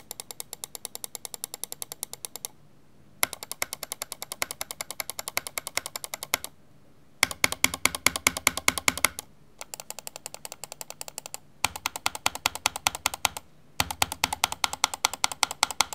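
Clicks from the buttons of a Zowie EC3-C gaming mouse come in rapid bursts of sharp, crisp taps, close and loud, separated by brief pauses.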